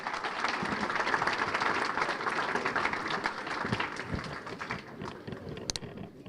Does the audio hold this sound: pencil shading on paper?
no